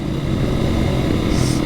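A KTM supermoto motorcycle rides through roundabouts, its engine a loud, steady, close drone with wind rush filling the whole stretch.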